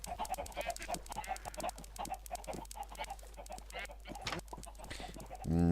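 Chickens clucking in the Minecraft video game, many short repeated clucks close by in an irregular rhythm, with a louder burst at the very end.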